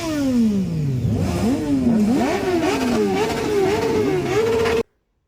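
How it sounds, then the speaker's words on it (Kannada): A superbike on display at an auto expo in JK Grounds, Mysore, is revved hard several times in quick succession. The engine note climbs and drops loudly and close by, with no talk, and cuts off abruptly at the end. "ನೀವು ಸ್ವಲ್ಪ ಸೂಪರ್ ಬೈಕ್ ಸೌಂಡ್ನ ಕೇಳಿ."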